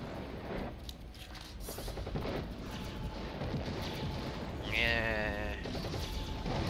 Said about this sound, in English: Who done shooting us?